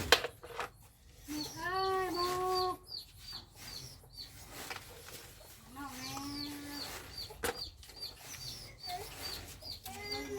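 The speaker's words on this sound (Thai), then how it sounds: "ไก่ ไก่ไก่" Chickens cluck and call in short bursts at a rural outdoor cooking spot, moderately close, with people talking quietly in between.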